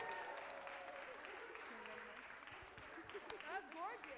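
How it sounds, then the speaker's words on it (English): A small group claps through a round of applause at a Sunday service, the clapping fairly faint and mixed with voices and laughter, with people talking over it. "Round of applause."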